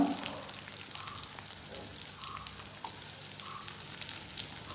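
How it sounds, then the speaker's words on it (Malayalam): Sliced onion, shallots, ginger and garlic softening in a pan with a soft, steady sizzle, close and low in level, with a few faint bubbling pops and no voices. "സവാളയും കൊച്ചുള്ളിയും നമ്മുടെ ഇഞ്ചി വെളുത്തുള്ളി ഇതെല്ലാം ഒന്ന് വാടി വരട്ടെ"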